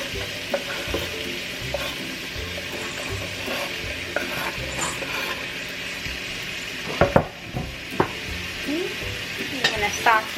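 Pork with garlic and onions sautéing in a pan, a steady close sizzle broken by repeated spatula stirs and a few sharp metallic scrapes toward the end.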